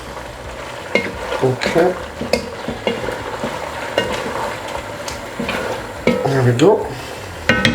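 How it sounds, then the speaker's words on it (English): Slow-cooked beef flank with mooli being stirred in a pan: intermittent scraping strokes and clinks of a utensil against the pan over a low sizzle, close up, with a person briefly speaking a few words. "And just stir everything together."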